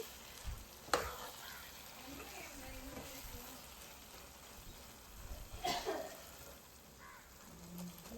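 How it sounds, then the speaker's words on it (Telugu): Rice for a vegetable biryani is fried dry in a pan, giving a faint, steady sizzle with occasional stirring scrapes and clatters spread across the stretch. "బియ్యంలోని తడి ఆరేంత వరకు బాగా వేయించుకొని"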